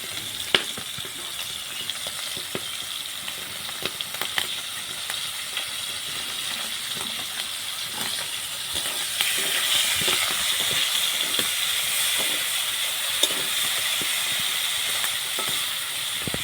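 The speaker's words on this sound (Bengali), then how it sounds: "চিংড়ি মাছ ভাজা হয়ে গেছে" Shrimp fry in oil in a very hot pan, a continuous crackling sizzle with scattered sharp pops that grows slightly louder partway through, with no voices.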